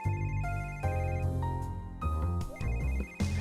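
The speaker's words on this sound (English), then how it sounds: "Phone call now?" A phone ringtone plays in the detective adventure game Chase: Cold Case Investigations, a moderately loud electronic melody of tonal notes repeating over about three seconds with no voices.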